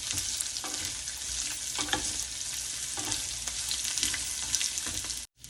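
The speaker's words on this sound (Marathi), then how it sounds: "ही जी साल आहे भोपळ्याची ती सुद्धा आपण यात परतून घेणार आहोत" Bottle gourd peel frying with chili powder in a pan, a loud, continuous close sizzle with stirring scrapes that cuts off abruptly just before the end.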